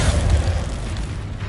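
A loud, sustained booming blast from a spell explosion in the Hogwarts Legacy video game, with deep rumble dominating and slowly fading over a second and a half, no voices.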